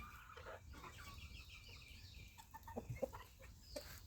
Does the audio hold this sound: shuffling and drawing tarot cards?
no